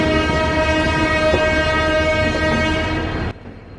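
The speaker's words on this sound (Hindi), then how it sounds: "ये ट्रेन अपने प्लेटफॉर्म पे लगाई जा रही है" A train being shunted onto its platform at Kanpur Central station, with a loud, sustained horn blast over rumbling wheels and clatter that cuts off abruptly near the end.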